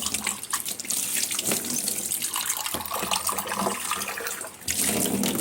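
Tap water runs steadily into a sink while decorative showpieces are washed, a constant close splashing rush with small shifts as objects move under the stream.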